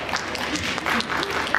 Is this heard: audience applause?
yes